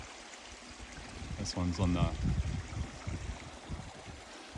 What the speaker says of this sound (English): here's actually the 4th creek in this cut block.